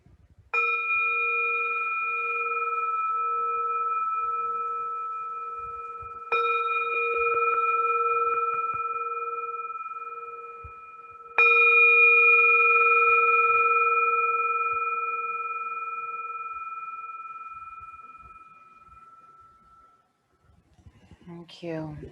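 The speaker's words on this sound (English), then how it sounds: "So here is the sound of a bowl" A singing bowl used to open a restorative yoga practice is struck three times, a few seconds apart, each strike blooming into a steady, shimmering ring that overlaps the last and slowly fades, with a voice beginning briefly at the very end.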